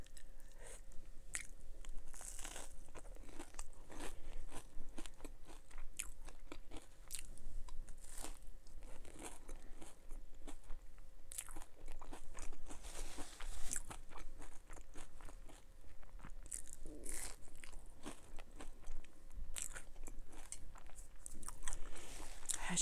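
Crisp air-fried hash browns crunched and chewed close to the mic, a steady run of sharp bites and wet mastication over about twenty seconds, with no talking.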